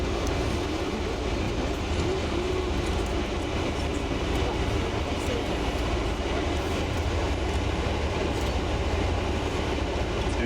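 The Durango and Silverton train rolls along continuously, a loud steady rumble of rail cars with rhythmic clatter of wheels on track, no talking heard.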